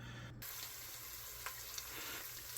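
Italian sausage browning in a pan for lasagna soup, a soft, steady sizzle with faint crackles and an occasional light scrape, heard close and quiet with no voices.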